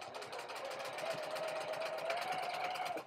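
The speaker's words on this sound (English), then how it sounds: "So let's go sew those seam lines," Sewing machine running quilt seam lines, a quiet, rapid rhythmic stitching chatter with a faint whine, steady and close throughout.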